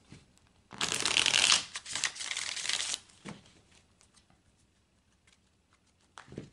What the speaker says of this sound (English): I'm taking the deck in hand and I'm shuffling the cards.